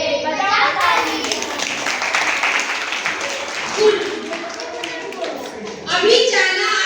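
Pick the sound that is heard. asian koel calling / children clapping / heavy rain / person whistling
children clapping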